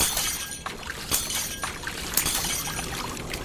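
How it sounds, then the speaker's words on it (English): Glass cracks and shatters under forceful water pressure in an anime sound effect, a dense, bright crackling wash with sharp breaking snaps over rushing, pouring water. "The water increased so forcefully it cracked the glass."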